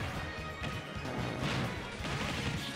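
Forward smash attacks land in a Super Smash Bros tournament match during winners finals. Dense, loud impacts and crashes run continuously, with game sounds stacked closely together throughout.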